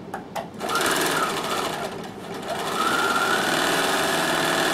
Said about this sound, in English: Okay, so now I'm going to overlock that.